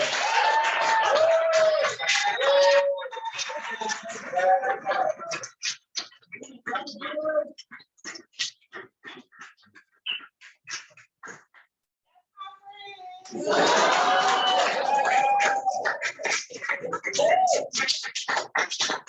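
An audience at an educator awards ceremony and benefit cheers and applauds for an award recipient, loud bursts of clapping and whooping at the start and again near the end, with sparser claps in between.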